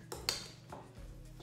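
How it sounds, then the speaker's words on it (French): A fork clinks against a bowl while mixing tuna with cream cheese: a few quiet, close metallic taps and scrapes. "Alors je vous conseille de mélanger avec une fourchette"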